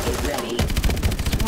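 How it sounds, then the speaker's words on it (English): Swarm missiles launching in Call of Duty Advanced Warfare, a loud rapid burst of repeated thumping launches that starts after a brief lull and keeps going, with a dense stuttering rhythm. "Even more swarm missiles."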